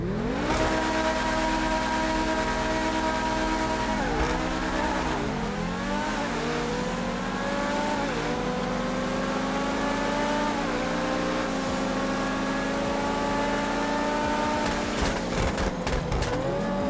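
A V10 race car in GTA 5 with a 5.2 liter engine rated at 602 horsepower roars loudly and continuously as it accelerates, its engine note climbing and falling through repeated gear shifts, up close with no voices.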